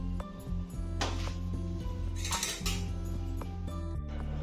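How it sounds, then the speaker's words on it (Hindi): Dry fruits for date laddoos being mixed in a pan, with repeated metallic clinks and scrapes of a spoon against the cookware, close and fairly steady throughout. "अब इसी में हम सारे ड्राई फ्रूट्स को मिक्स कर लेंगे"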